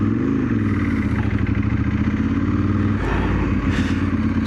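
A Ducati 916 engine while riding, a loud, steady, close throaty drone that holds mid revs, with a slight rise and dip in pitch and no talking.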